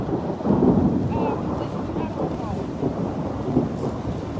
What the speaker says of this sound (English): It's still raining, not as hard as before.